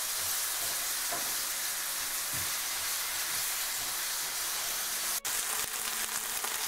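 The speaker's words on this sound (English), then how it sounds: "stay calm and just, you know, flip the chips around as they start frying." Potato chips fry in a pan with a steady, close, dense sizzle and hiss, broken by one brief sharp click, with no talk.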